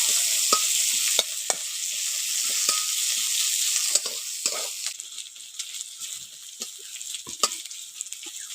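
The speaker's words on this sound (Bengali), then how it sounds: "ওই তেলের মধ্যে দিয়ে দিচ্ছি পেঁয়াজ কুচি। পেঁয়াজটাকে একটু ভালো করে ভেজে নেব।" Chopped onion sizzles steadily in hot oil in a pan, with a bright continuous frying hiss broken by repeated scraping strokes of a spatula stirring, heard up close and alone.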